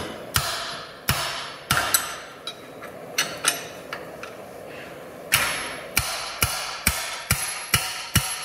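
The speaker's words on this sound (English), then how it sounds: "take a big hammer and pop until I can just get that bolt started" Sharp metallic blows from a big hammer striking a wrench on a Jeep JK front axle bolt ring out one after another, about a dozen in all, landing in uneven bursts with short pauses between them.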